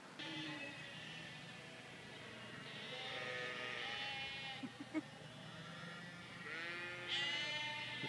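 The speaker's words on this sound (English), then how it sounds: "Nice bleating sheep to listen to." Sheep, some of them freshly shorn, bleat in the Cotswolds countryside. Several drawn-out bleats come at moderate distance over a steady outdoor background hum, with no talking.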